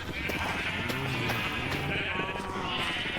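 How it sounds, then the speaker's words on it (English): Sheep bleat several times in blocky Minecraft farmland during breeding, the cries overlapping against a steady bed of game ambience with no talking. "Of course, we do some more breeding of the sheep."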